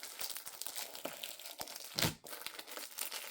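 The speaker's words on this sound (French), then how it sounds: "Je vais ouvrir l'enveloppe." A paper envelope being torn open by hand, with crinkling and short ripping sounds that build to a louder tear partway through, close up and without speech.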